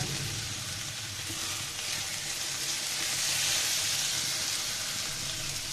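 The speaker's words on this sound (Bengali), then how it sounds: "বেগুনগুলোকে বেজে নিচ্ছি।" Eggplant slices fry in hot oil, giving a steady, even sizzle and hiss that holds at a constant level for the whole stretch, close by and with no voices over it.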